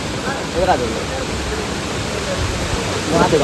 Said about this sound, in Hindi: यहाँ पे देखो ये ऊपर से ही झरना आ रहा है